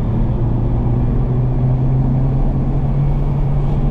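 A car accelerating hard around the Homestead Miami Speedway track, heard as a loud, steady engine drone from inside the car with a low, constant rumble throughout.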